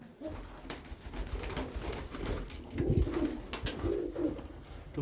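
Pigeons in a loft give soft repeated throaty coos up close, layered over flutters and scuffling movement in the background.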